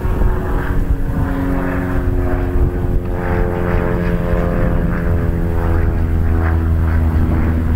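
A propeller airplane passes near an air base, its engine droning steady and fairly loud with a rough, continuous hum through the whole stretch.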